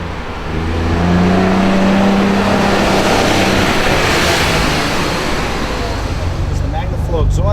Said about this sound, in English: It's the MagnaFlow exhaust system. Not much noise actually from it.